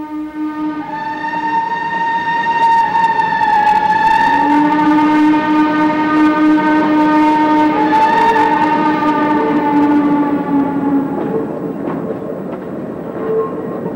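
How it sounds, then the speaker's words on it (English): An O gauge model Shay locomotive pulls out of a yard at a measured pace, its whistle sounding as a loud, sustained multi-tone blast that bends in pitch, with a faint rolling rumble underneath. "After pumping up the air and getting an air test, the Shay starts west, leaving the yard at a measured pace."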